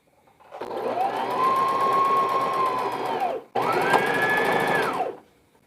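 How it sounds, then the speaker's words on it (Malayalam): Sewing machine stitching tote bag fabric with the right sides placed together, running in two steady, loud bursts of close mechanical whirring separated by a brief pause, with no talking. "രണ്ട് ഭാഗവും നല്ല ഭാഗങ്ങൾ തമ്മിൽ ചേർത്ത് വെച്ചിട്ട് സ്റ്റിച്ച് ചെയ്യുകയാണ്."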